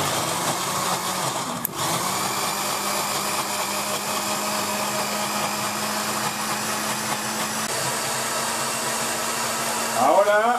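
An electric mixer whirs continuously at a high, steady pitch while beating a homemade Caesar dressing of anchovies in their oil. Its tone wavers briefly near the start and shifts again at the end.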